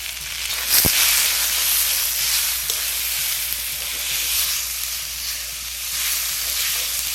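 Tomato with salt and turmeric sizzles loudly in hot oil with spices in a pan, a steady bright frying hiss throughout, with one sharp clatter near the start.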